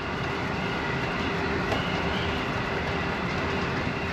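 Passenger train running on the Iron Ore Line toward Kiruna, a constant loud rumbling roar with faint rail clatter heard from inside the carriage, no talking.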